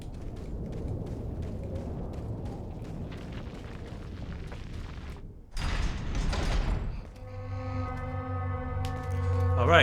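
Resident Evil 4 regenerator enemy noises: low rumbling, rasping breaths and a mechanical groan, followed by a swell of tense, droning game music that sustains loudly to the end.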